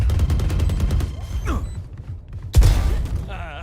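Gunfire during a Valorant intercollege tournament match: rapid bursts of shots under busy game noise, a whooshing ability sound, then a heavy loud blast near the end.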